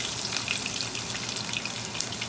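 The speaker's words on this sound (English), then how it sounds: "Now we have to put the garlic" Garlic fries in a cup of hot oil in a pan over medium heat, giving a dense, steady, close sizzle with fine crackling pops and no voices.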